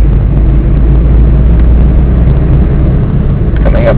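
Steady, loud drone of a manual transmission car cruising in fourth gear on a highway, a constant engine and road rumble with wind noise throughout and no change in pitch.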